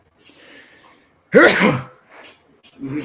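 A single loud, sharp human sneeze during a casual conversation, preceded by faint murmuring and followed by brief speech.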